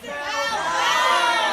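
A crowd of young voices shouting a name together at a live musical show, one loud sustained chorus of yelling that swells and holds to the end.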